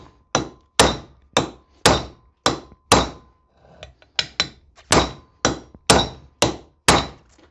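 A hammer drives a wheel bearing into the hub of a 750 kg Saris KL 75 car trailer with a Knott hub, striking about fifteen sharp metallic blows in a steady rhythm, close and loud, with no talk.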